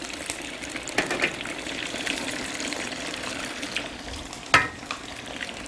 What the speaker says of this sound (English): bring it over to the hot ghee here, and let's carefully deep fry it